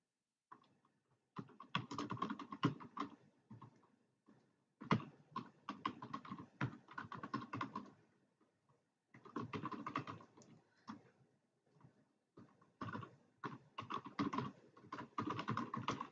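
Typing on a computer keyboard while filling in a table, heard as bursts of quick, close key clicks separated by short pauses.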